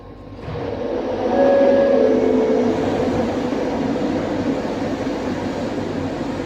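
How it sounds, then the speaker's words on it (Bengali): A metro train in Malaysia rumbles into a station and rolls steadily alongside, a broad loud roar with a brief high squeal of wheels or brakes early on. "আরও একটা ট্রেন আসতেছে এখানে"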